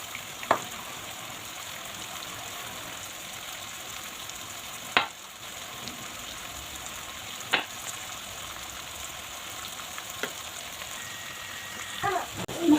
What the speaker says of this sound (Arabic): نقعد هكذا نقلب في اللحم ونشوفوا بلي البصل فريمون تكرمل